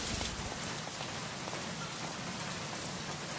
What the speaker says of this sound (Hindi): ये बंबई की बारिश भी ना आई हेट रेन